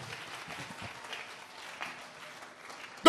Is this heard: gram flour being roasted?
no